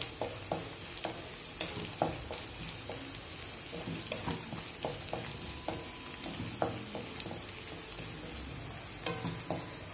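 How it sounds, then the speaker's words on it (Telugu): Mustard seeds, cumin, chana dal, dried and green chillies and peanuts frying in hot oil, with a constant close crackling sizzle and frequent sharp pops and spatters throughout, and nobody speaking. "ఆవాలు, జీలకర్ర, శనగపప్పు, మిరపకాయలు, పల్లీలు, పచ్చిమిరపకాయలు అన్నీ వేసాను. ఇలా చూడండి ఎలా వేగుతుందో."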